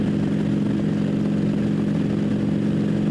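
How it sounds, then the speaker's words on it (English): A Harley motorcycle's loud exhaust drones in a steady, deep, rapid-firing rumble at close range, holding an even note throughout with no talking. "don't make a lot of noise with your exhaust"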